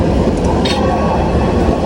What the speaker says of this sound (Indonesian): Nah, kita naik kereta ini, komuter lain.